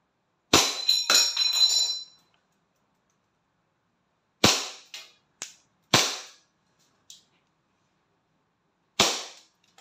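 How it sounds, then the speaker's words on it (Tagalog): Gas blowback airsoft pistol, a Pit Viper replica, firing several sharp close cracks: a quick burst of shots at the start, then single snapping reports spaced seconds apart, each with a brief metallic slide clack and short decay, no talking. "Test far. Pit Viper."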